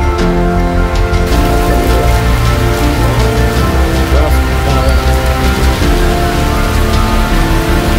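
Heavy pouring rain in an alley in Colón, Panama, loud and dense hiss drumming on surfaces, steady for the whole stretch with muffled voices faintly beneath.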